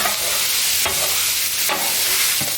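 Onions frying on a flat griddle in avocado oil, a steady close broadband sizzle with a few brief scraping stirs from a spatula, no voices.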